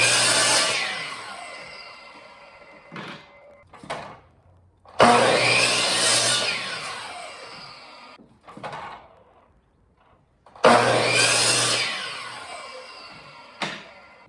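Wooden strips for an insulated floor are cut to size in three bursts of close sawing, each a loud rasping stroke that fades out, separated by short knocks and handling noises.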